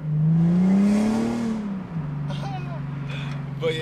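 An Infiniti G37 sedan with a custom exhaust drones steadily while driving, its engine note rising and then settling, under a person talking inside the car.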